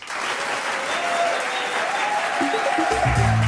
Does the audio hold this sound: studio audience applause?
yes